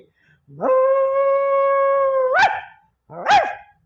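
A man imitates dogs with his voice: a long, steady howl, then two sharp, close barks, loud and clear with no other talk.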